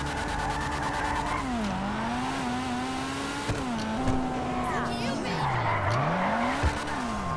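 Tuned Dinka RT3000 drifting in GTA V: a continuous engine drone with sweeping pitch changes as it revs and slides, tire squeal running under it throughout, with occasional thumps and someone talking over it.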